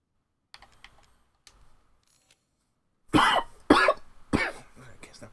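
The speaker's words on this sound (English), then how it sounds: "Coughing." Three loud, close coughs burst out in quick succession after a stretch of faint clicks and soft shuffling, set in the castle escape of the survival horror game Resident Evil Village.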